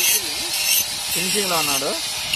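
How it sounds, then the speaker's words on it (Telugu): A grinder works over welded joints for a final smooth finish, giving a continuous harsh, abrasive hiss that runs through the whole moment while someone talks over it. "వెల్డింగ్ ఏదన్నా ఉంటే ఏమి తీసుకోకుండా ఉండేదానికి గ్రైండ్ కొట్టేస్తున్నాడు"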